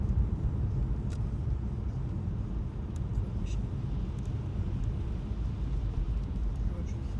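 A car drives along with a steady, close low rumble of engine and road noise filling the cabin throughout, and only faint scattered ticks above it.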